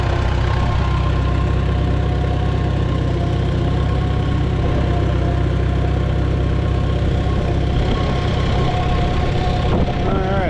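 A Farmall Super A tractor engine idles up close with a steady, loud, low chugging rumble that runs unbroken for about ten seconds.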